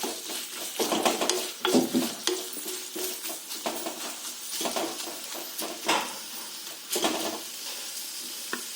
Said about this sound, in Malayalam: ഇനി വേണ്ടത് സവാളയാണ് ആദ്യം ഇടാൻ പോകുന്നത്. സവാള ചെറുതായിട്ടൊന്ന് വഴങ്ങി വരണം.